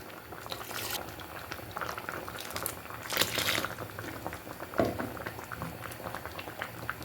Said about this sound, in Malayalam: ഇപ്പോൾ കണ്ടോ, നന്നായിട്ട് തിളച്ച് വന്നിട്ടുണ്ട്.